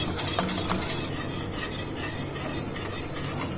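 A spoon or whisk stirs a milk mixture for triple-layer mango pudding in a pan, giving a steady close scraping and swishing rasp with a few light clinks, no talking.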